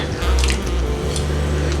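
Corn maize (egbo) cooking in water in a pot is stirred, giving loud wet squelches and sloshing with a few drips, close and continuous with no talking.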